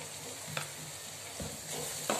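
Cumin and coriander powder, asafoetida and salt sauté in a pan with a soft, steady sizzle, and a few faint stirring scrapes rise above the frying.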